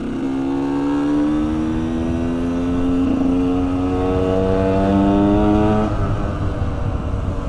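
A KTM 125 EXC enduro motorcycle engine revs close by, its pitch climbing steadily for about six seconds before dropping off and settling into a steady run.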